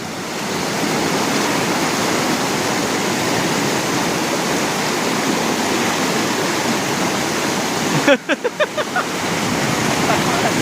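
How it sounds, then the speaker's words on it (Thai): Water roars through the opened gates of the Pak Mun dam in Thailand, a loud, dense, continuous rush. A short burst of knocking or handling noise comes near the end. "เป็นน้ำตกงามๆเลยแถบนั้นพี่น้องเอ้ย"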